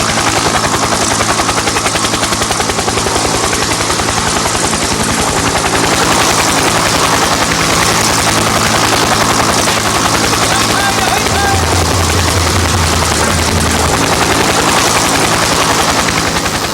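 A helicopter roars loud and close, a steady dense rotor-and-engine drone filling the whole stretch without pause.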